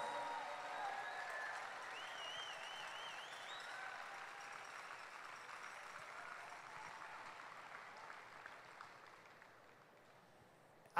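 Sustained audience applause for cancer researchers in red shirts at a large opening ceremony, steady broadband clapping from a big crowd that slowly thins and fades, with faint voices underneath.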